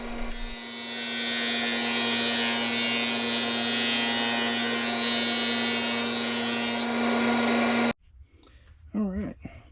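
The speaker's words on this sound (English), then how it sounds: "Now we're running it through the drum sander to smooth out the top and bottom." A drum sander grinds glued-up wood pieces for a segmented vase, a loud steady whine with a strong hum running for about eight seconds before cutting off, then a few faint knocks and brief voices.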